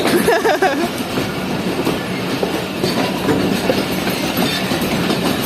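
An old passenger train, the Shaheen Passenger, rolls along the rails with a loud, steady rumble and rhythmic clickety-clack of wheels, heard from inside the carriage with faint wheel squeal and no clear talk.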